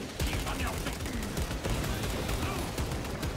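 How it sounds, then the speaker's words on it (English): Rapid gunfire and bursts of shooting from the Warhammer 40K Space Marine 2 video game, loud and dense throughout with overlapping shots and impacts, continuous without pauses. "Dude, the shooting is so nice in this."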